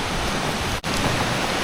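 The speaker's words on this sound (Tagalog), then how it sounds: "Ilog na naman to." A river rushes in a steady, loud, broadband wash of flowing water, unbroken except for a brief dip midway, with no voices.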